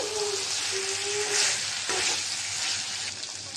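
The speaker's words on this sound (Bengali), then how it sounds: "কষানো হয়েছে মুরগির মাংস আর আলু। আমি এখন জল দিয়ে দিব এর সাথে।" Chicken and potato curry sizzles loudly in a pan as water goes in, a steady close frying hiss with brief stirring scrapes and no talking.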